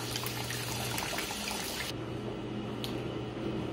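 Water runs steadily into the tub of a Poseidon manual laundry washer, a continuous close rushing fill with no talk.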